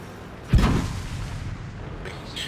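In a tank battle video game, an AT-7 tank destroyer takes a single heavy cannon shot, a sharp booming report followed by a rumbling low tail that fades over two seconds.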